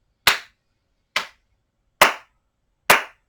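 Four sharp hand claps spaced evenly about a second apart, counting breaths during a gentle yoga session, each one crisp and close in an otherwise quiet room.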